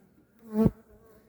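A single honeybee buzzes past up close, rising to a brief loud drone and fading within about a second, with quiet background around it.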